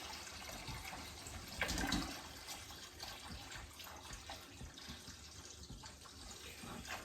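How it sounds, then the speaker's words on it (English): Cold tap water running steadily into a container while topping up homemade elderflower and honeysuckle wine, a continuous faint rushing and splashing that swells briefly near the start. "I'm just going to top up with my nice cold water."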